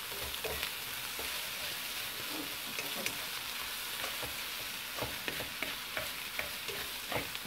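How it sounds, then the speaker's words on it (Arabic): Already cooked chicken is stirred into a vegetable filling in a hot pan, giving a steady close sizzle with scraping and stirring clicks from the spoon throughout. "الدجاج راه ديجا طايب، غير غادي نخلطوه مع هذا الخليط"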